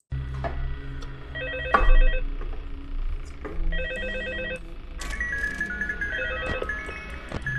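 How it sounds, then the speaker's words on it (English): Repeated electronic phone ringing in a Springtrap horror video game, loud and close, with short bursts of ring tones recurring every couple of seconds over low background hum. "There's also a phone call that uses AI."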